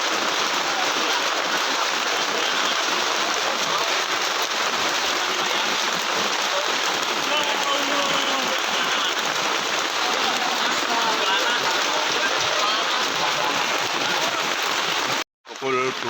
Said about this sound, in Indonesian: Pukul 2 lewat, hujan masih deras.